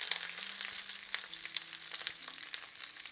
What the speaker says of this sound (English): Just a little fry on each side.